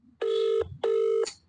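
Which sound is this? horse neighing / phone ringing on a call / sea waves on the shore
phone ringing on a call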